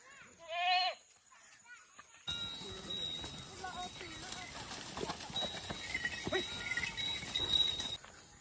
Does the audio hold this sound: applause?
no